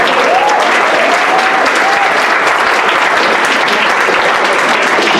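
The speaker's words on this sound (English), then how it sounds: "Come on, give her a round of applause." Applause from a crowd at an evening gathering of an executive women's group, dense, steady and loud from start to finish.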